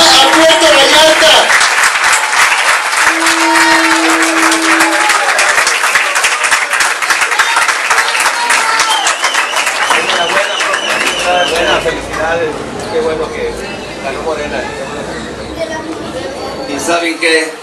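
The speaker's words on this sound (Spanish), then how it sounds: "ese aplauso que se escuche de victoria en este momento" A crowd in Puerto Vallarta cheers and applauds loudly to celebrate an election victory, dense clapping mixed with shouts and chatter, the applause thinning toward the end as voices and babble continue.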